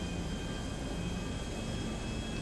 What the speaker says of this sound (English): I need tips on driving a plane.